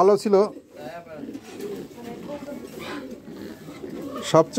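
Fancy pigeons coo in a loft, with soft repeated calls near the start and end over a low murmur of background voices.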